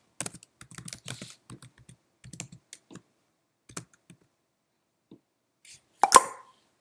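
Login username and password typed on a computer keyboard, quiet close keystrokes in quick uneven bursts with short gaps, ending in a louder sharp key press.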